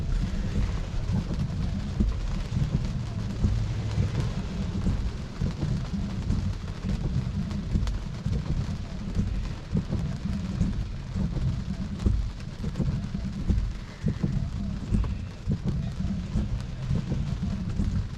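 Heavy rain drums steadily on a Tesla's roof and glass while driving, heard from inside the cabin, with low rumbles of thunder rolling beneath the continuous downpour.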